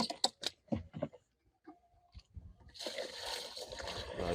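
Water is poured into a sprayer to rinse it, a sloshing, splashing pour that starts near the three-second mark and continues to the end, after some scattered knocks and handling clicks.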